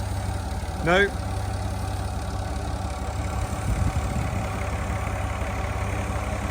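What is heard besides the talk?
tractor engine idling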